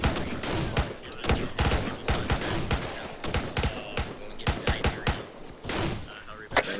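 Rapid gunfire in the military video game ARMA 3 during a town assault, dense bursts of rifle and machine-gun shots cracking near and far in uneven volleys, with voices talking over them.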